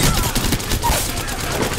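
Gunfire in the battle-royale video game Apex Legends, a dense, continuous burst of rapid shots filling the whole moment, loud and close with a faint voice underneath.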